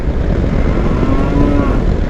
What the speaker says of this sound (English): Look at all the little cows there.